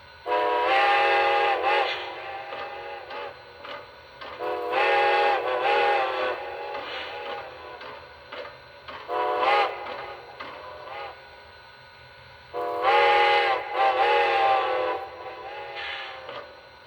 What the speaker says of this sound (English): without demonstrating the ghost whistle effect